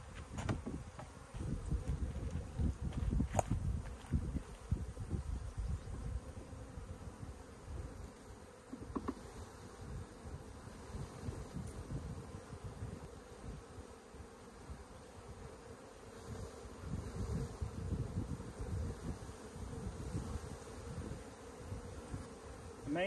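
Honeybees from a swarm trap buzzing in a constant, droning hum close by during rehoming from a bucket, with occasional faint knocks and shuffles underneath.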